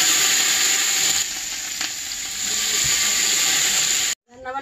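Onions and rice sizzle in a pot on a clay stove, a steady close hiss with faint stirring scrapes, ending abruptly in a brief quieter rustle.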